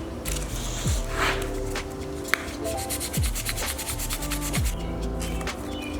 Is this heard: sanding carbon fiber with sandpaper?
yes